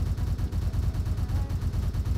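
Rapid gunfire in the video game Truy Kích, a dense run of low, thudding shots in an unbroken rhythm, fairly loud and steady with no talk over it.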